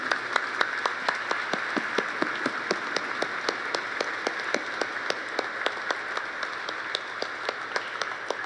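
A church congregation at an episcopal Mass claps steadily and in unison, a rhythmic, evenly paced applause that carries on throughout, moderately loud in a reverberant space.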